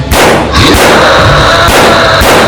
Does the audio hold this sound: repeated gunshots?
yes